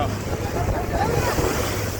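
A motor trawler crossing rough water toward Hatiya Island, Noakhali: continuous wind-buffeted rumble of water and a running engine over waves, dense and close throughout.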